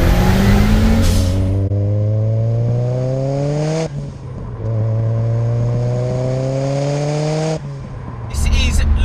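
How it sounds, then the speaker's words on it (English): A 564 BHP Ford Escort Cosworth with a big turbo and forged engine pulls hard through gears on boost, its rising engine note climbing steadily with two sharp shift breaks, loud and close from inside the car. "It is hilarious when it comes on boost."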